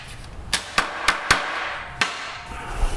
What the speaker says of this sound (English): I'm going to use this hammer just to kind of pound it flat